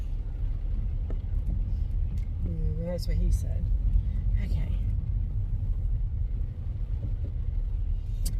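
A big truck rumbles past a car on a rain-soaked road during a downpour, a heavy continuous low roar filling the cabin while someone speaks briefly over it.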